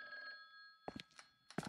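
Telephone in the horror game The Guest rings with a faint, sustained electronic bell tone that fades out, followed by a few soft clunks and thuds nearby.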